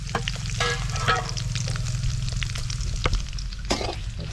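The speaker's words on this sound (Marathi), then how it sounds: "कढीपत्ता टाकल्यानंतर त्याच्यामध्ये आपण मसाले ॲड करूया" Curry leaves and spices frying in hot oil in a kadai, a steady crackling sizzle with faint stirring scrapes running throughout, close and fairly loud.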